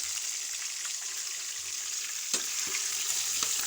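Chicken liver stir-fried in a hot pan, a steady loud sizzle with occasional stirring scrapes and clatter as the pieces are mixed.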